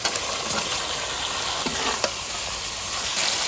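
Pointed gourd (potol) frying in a pan with salt and sugar, a steady broadband sizzle close by with a few sharp scrapes of stirring, no talk.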